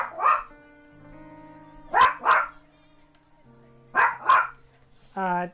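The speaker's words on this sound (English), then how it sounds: "You might hear a dog directly behind me." A dog barks in pairs of sharp yaps close behind a livestreamer, sounding in three separate bursts over low background music, with one higher whining yelp at the end.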